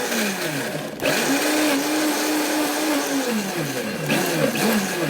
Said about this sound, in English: So once we put them in our blender, we take it in here and